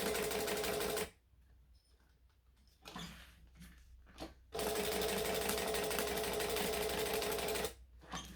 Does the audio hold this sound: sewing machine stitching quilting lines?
yes